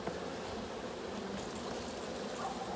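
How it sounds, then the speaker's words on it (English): Honey bees drone in an open hive of ten frames during an early spring inspection, a steady, even buzz of many insects close by with no one speaking. "you'll see there's bees covering 8 out of the 10 frames in here"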